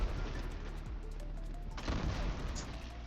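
Bombing explosions in the video game Warframe: a dense run of low booms and crackling blasts rumbling continuously, with a sharper burst near the middle, loud and without talk.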